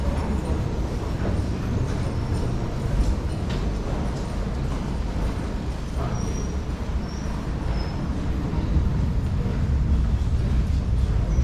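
A loud, continuous rumble of a Paris Metro train moving through a deep tunnel, with faint high squeals of wheels on rails near the end and no talking.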